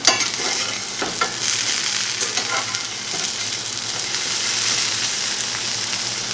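Boiled potatoes sizzle and fry steadily in a pan as they brown, with a continuous bright crackle and occasional stirring scrapes close by, no talking.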